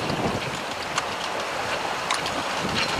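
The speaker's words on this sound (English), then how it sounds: "Lots of whitewater, and a lot of it's coming into cockpit too." A sailboat under a number 3 jib crosses rough open ocean in roughly 26-knot wind, with whitewater washing into the cockpit. Steady loud roar of wind and breaking water, with a few sharper splashes.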